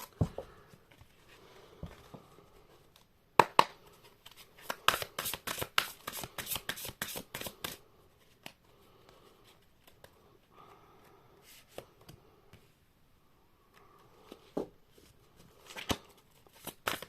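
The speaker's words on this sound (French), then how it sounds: "Alors, hop, je vais tirer deux autres cartes." Oracle cards being shuffled and drawn by hand, a dense rapid flutter of card riffling in the middle with scattered soft taps and slaps around it, close and quiet with no talk.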